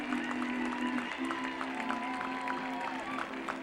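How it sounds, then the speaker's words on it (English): Applause for horse show winners riding down victory lane at an evening event, with crowd clapping softly over a steady tonal background and an announcer's voice. "Applause as they ride down victory lane tonight."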